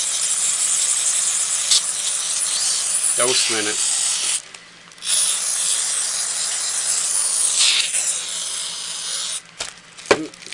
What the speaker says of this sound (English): It's kind of spraying out,